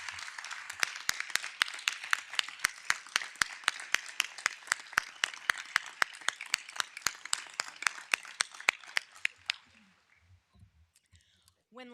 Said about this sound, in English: Please rise and give her a round of applause.